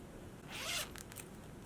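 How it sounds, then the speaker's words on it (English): A zipper on a handmade Sew Together bag is pulled closed in one quick, close rasping stroke, followed by a few small clicks as the pull settles. "It zips and everything"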